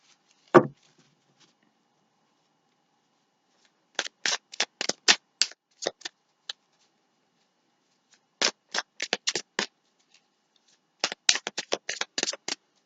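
Tarot cards are shuffled and drawn in quiet surroundings, one sharp snap followed by three bursts of quick riffling card flicks, each lasting about two seconds, close by with silence between.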